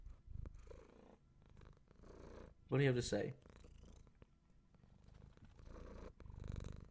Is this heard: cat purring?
yes